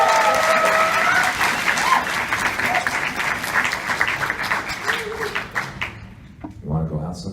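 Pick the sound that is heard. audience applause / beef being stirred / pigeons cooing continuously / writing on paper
audience applause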